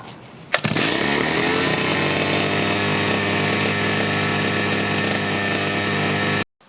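Two-stroke brush cutter engine catching on a pull start, then running steadily at a loud, buzzing idle for several seconds, close by and alone, before cutting off abruptly.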